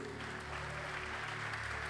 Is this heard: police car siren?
no